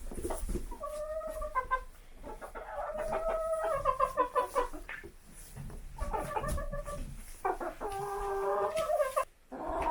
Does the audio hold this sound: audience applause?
no